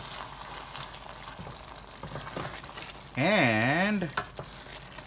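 Vegetable dum biryani is gently stirred in a pot over a low flame, giving a soft, steady sizzle and scraping with a brief tonal squeal partway through.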